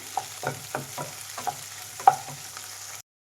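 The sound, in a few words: egg stir-frying with vegetables for noodles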